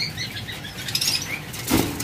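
An aggressive pet bird, likely a lovebird or budgerigar near egg-laying, flaps its wings in short flurries close by, with a brief chirp and a sharper burst of flapping near the end.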